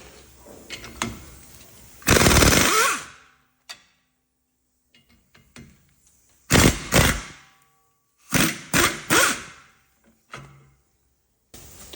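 Mechanical clicks and short ratcheting bursts from a wrench working the tight 15 mm caliper bracket bolts on a rear brake of a 2015-2019 Ford Transit, loud close bursts separated by quiet pauses and small taps.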